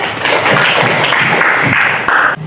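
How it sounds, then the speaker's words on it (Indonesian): A classroom of students claps together in sustained, dense applause, loud and close throughout before cutting off near the end. "Terima kasih, tepuk tangan."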